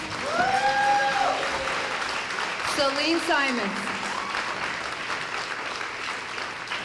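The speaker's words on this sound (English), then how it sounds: "Can we give them a little warmer applause?" Warm audience applause for program graduates at a 1997 graduation ceremony, a steady dense wash of many hands that carries on under a voice reading names aloud.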